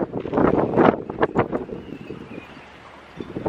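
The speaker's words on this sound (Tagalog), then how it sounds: "ang lakas ng hangin" Strong wind buffets the microphone at a beach, loud gusty rumbling bursts that ease off before picking up again.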